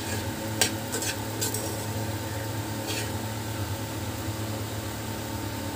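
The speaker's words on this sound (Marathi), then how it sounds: "ह्याला आपण व्यवस्थित 3 ते 4 मिनिट व्यवस्थित परतून घ्यायचं आहे" Leftover chapati chaat stirred and sautéed in a pan makes a soft, continuous sizzle under a steady hiss, with a few brief scraping stirs of a spoon against the pan.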